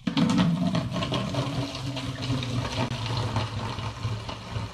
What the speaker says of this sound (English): So I'm gonna pour it from this demijohn into this vessel here.